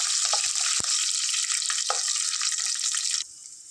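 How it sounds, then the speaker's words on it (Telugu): Garlic, dry red chillies and curry leaves frying in hot oil give a loud, dense, close sizzle with a few sharp pops and spatters, then the sizzle suddenly drops lower near the end. "ఒక నాలుగు ఎండుమిర్చి కరివేపాకు వేసుకుంటాను ఫ్రై చేసుకుందాం"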